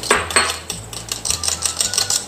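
Utensils clink and scrape in a bowl while salad wrap filling is mixed, producing a quick, irregular series of close metallic taps and scrapes.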